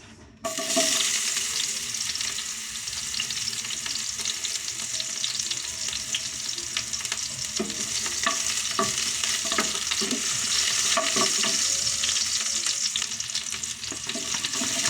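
Chopped onion sautés in hot oil in a wok for chicken tinola, a loud, steady hissing sizzle that runs almost the whole clip, broken by intermittent scraping and clinking of a spatula stirring, with no voices.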